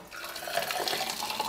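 Water is poured over lemon, gooseberry and ruby jelly in a kitchen, a brief close splashing gush with a faint clink of dishes.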